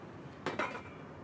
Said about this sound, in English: And cover the pot.